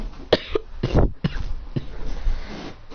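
A voice imitates a cough: several harsh, bursty coughing sounds in quick succession, fairly close and loud, trailing off into rough breathy noise.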